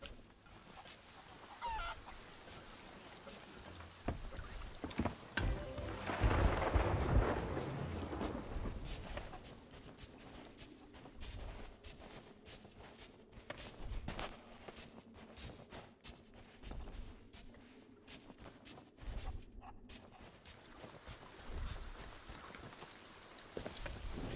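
Rain falls in the Sea of Thieves video game, a steady patter with a loud rumbling swell early on and scattered knocks and thuds throughout, with no one talking.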